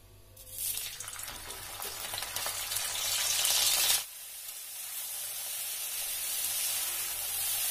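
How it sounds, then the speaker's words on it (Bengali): Broccoli hitting hot white oil in a wok, with a loud spitting sizzle that swells for a few seconds, then settles to a steadier, quieter frying hiss, no one talking. "এবার সাদা তেল দিয়ে ব্রকলি গুলোকে একটুখানি ভেজে নেব।"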